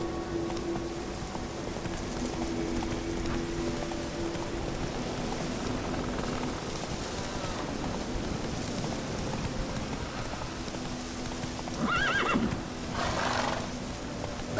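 Roach, Geralt's horse in The Witcher 3 video game, neighs over a steady bed of rain and hoofbeats, with a sharper whinny near the end, mid-level and no talking.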